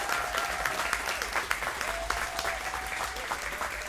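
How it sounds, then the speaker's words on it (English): An audience at a community independents evening claps steadily, a dense patter of many hands sustained throughout at moderate, fairly distant volume. "Can we just give a huge round of applause and thanks to Zali."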